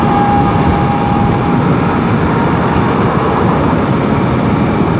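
A 2021 BMW R 18 cruiser motorcycle's engine droning steadily while riding, a loud continuous low rumble mixed with wind roar, with no talk.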